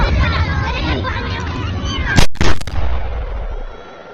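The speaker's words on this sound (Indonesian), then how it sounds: "seorang remaja yang dinilai lemah dan tak punya senjata tiba-tiba saja menembak Jack tepat di kepala bagian sampingnya" A single sharp gunshot cracks out in a film scene, loud and abrupt, with a second burst close behind it, after steady background noise and a voice.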